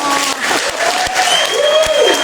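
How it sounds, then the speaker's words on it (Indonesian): A church congregation at a Christmas service claps loudly in a dense wash of applause, with a few sharp claps standing out and some voices calling beneath. "Ayo tepuk tangan bagi Tuhan."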